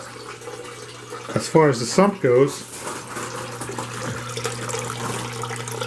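Water running through a Dutch bucket hydroponics system with a Rubbermaid tote sump, a continuous trickling flow with a steady hum beneath, while someone talks over it.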